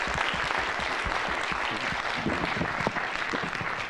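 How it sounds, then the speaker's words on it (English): An audience at a high school debate event at Asia Society gives steady, dense applause for the debate teams, even and sustained from start to finish with no talking over it. "I'd just like to give them another round of applause"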